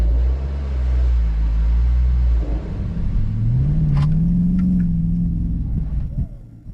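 A Dodge Charger Daytona with a 5.7 V8 Hemi drives with a heavy low rumble, then the engine note rises and holds in a smooth rev before easing off near the end, loud and close.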